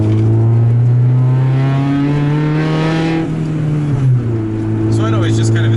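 Honda Civic driving with a steady low engine drone that rises slightly in pitch, then dips, heard from inside the car under continuous talking.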